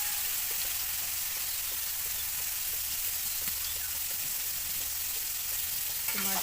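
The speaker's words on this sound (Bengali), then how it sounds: "মাছগুলো এখন নেড়ে চেড়ে আমি হালকা করে একটু ভেজে নিচ্ছি" Spice-coated shrimp fry in hot oil in a pan for chingri bhuna, giving a steady, dense sizzle with small crackles and occasional stirring scrapes throughout.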